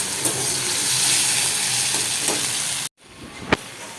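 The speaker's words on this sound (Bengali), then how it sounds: "আগে মশলাটাকে ভালো করে ভাজা ভাজা করে নিই" A steady sizzle of spices frying fills the pan, with occasional scraping stirs, then a brief cut and a quieter stretch with one sharp clink.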